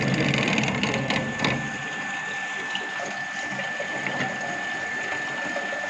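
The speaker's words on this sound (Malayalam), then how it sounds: "നമുക്ക് അവിടെ ഓറിഫൈസ് വഴി വെള്ളം പുറത്തോട്ടേക്ക് പോകുന്നത് കാണാൻ പറ്റും." Water streams steadily out through an orifice in a fluid mechanics lab tank, a constant close rush with a faint machine hum and a few brief clatters near the start.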